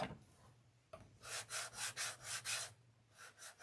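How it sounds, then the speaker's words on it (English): A wooden primitive star door hanger is sanded by hand, about six steady back-and-forth rasping strokes in a regular rhythm, close and soft, with no talking. "let me see if this is ready to sand"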